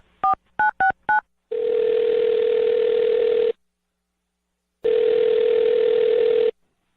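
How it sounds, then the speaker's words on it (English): A telephone being dialed: four quick DTMF keypad beeps, then two long steady dial-tone-like tones with a pause between, close and clear with no talking. "I'm going to dial his phone number right now"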